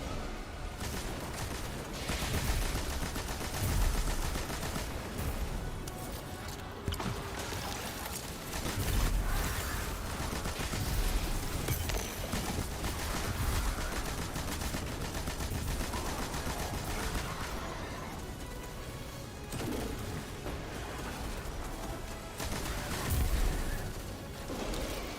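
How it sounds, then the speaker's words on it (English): Gunfire in the Destiny 2 Lightfall campaign, played as a Titan, rattles almost continuously as shots hit a barricade, a dense run of rapid bursts with crashes that holds at a fairly even, moderate level throughout. "Oh, I'm shooting a barricade."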